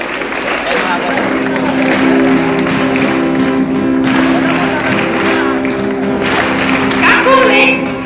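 An audience at a talk on racial equity in Iguaí, Bahia, clapping hands together in rhythm, a dense sustained patter of claps alongside voices and chanting from the crowd.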